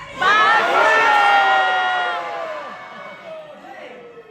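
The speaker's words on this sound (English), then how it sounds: "I need you to scream as loud as you can" A large crowd of fellowship participants at a summit screams and shouts their names together, a loud, sustained burst of mixed voices that peaks early and gradually fades over several seconds.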